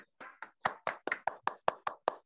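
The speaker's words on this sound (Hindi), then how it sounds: "और मैं चाहूंगा कि इस इनकम के लिए एक बार जोरदार ताली बजाएं।" About a dozen sharp, evenly spaced hand claps sound in quick rhythm, fairly faint and close, with no talk over them, more like a single person clapping than a full audience.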